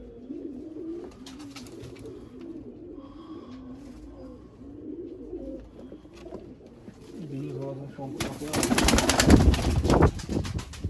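Rampuri pigeons in a loft coo in soft, repeated low calls, with people talking nearby and a sudden burst of wing flapping near the end.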